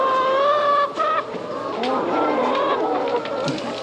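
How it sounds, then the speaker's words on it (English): Layer hens clucking and squawking close by, several birds calling over one another without pause. "Those are some good chickens."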